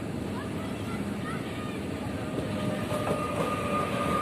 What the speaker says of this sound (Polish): Wjeżdża pociąg osobowy przyspieszony Rysianka, relacji Katowice z Wardoń.